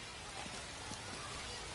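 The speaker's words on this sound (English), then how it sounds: "It's pouring down rain" Heavy rain pours steadily in a baseball video game, a dense, even hiss filling the whole stretch at moderate loudness with no clear breaks.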